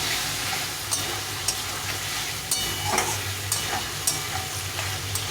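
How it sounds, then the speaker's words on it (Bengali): Potatoes and pointed gourd sautéing with spices in a pan, a dense continuous sizzle broken by repeated spatula scrapes and clinks at irregular intervals, close and fairly loud. "একটু ভালো করে আবার কষিয়ে নিই আর আলু পটলের সঙ্গে মশলাটা ভালো করে কষিয়ে নিতে হবে"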